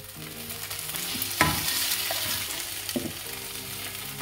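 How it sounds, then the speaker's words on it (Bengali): Paneer shallow-frying uncovered in oil in a pan, a steady close sizzle and crackle with a couple of brief louder pops and stirring knocks. "তো এটাকে এইভাবে ছেড়ে দিই, শ্যালো ফ্রাই হোক।"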